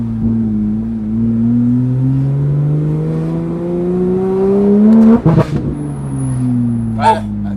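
Porsche 911 GT3 RS flat-six revving hard and climbing steadily in pitch, loud and close, then a sharp burst of crackles and pops on the lift-off around five seconds, with another short pop near the end.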